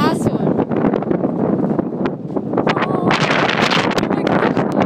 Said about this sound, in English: oh my gosh, it is extremely windy.